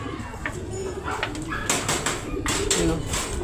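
A young racing pigeon back home at the loft after a derby coos softly amid outdoor background noise and faint distant sounds, with a few brighter calls near the end.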